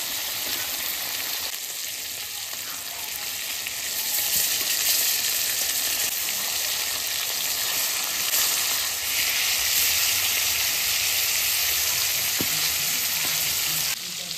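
Hilsa fish frying lightly in oil in a wok, a continuous close sizzle and crackle that swells a little partway through and runs unbroken without any talk, with a faint clink near the end.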